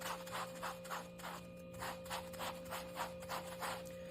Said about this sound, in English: Give it a scrub.